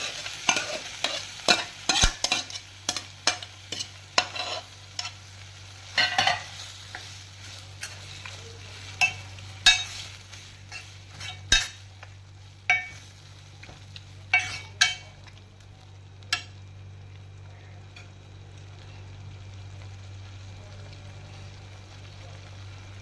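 Drumstick leaves are stirred into cooking dal rasam, a spoon scraping and clinking against the pot in irregular bursts over a low steady simmering sizzle that carries on alone after the stirring fades.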